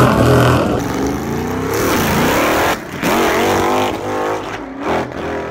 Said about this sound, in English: this is going to be the first drag strip run on a completely refreshed combination